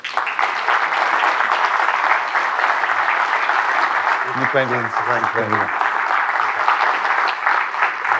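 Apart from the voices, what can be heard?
audience applause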